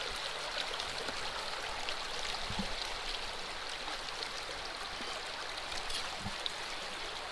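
Water and gold-bearing material run through a recon sluice outdoors, a steady rushing, trickling flow with occasional small knocks of gravel, continuous and moderately quiet with no voices.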